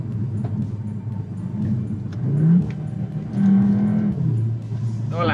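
A 2021 Cupra Formentor is braking and downshifting, its engine rising in short revving blips over a steady road rumble, heard up close from inside the car.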